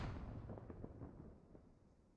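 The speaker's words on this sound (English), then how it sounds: "Oh, there's mortars." Mortar shell explosion in SquadOps, a faint distant boom whose rumble decays over about two seconds with a few smaller crackling echoes, heard alone without talk.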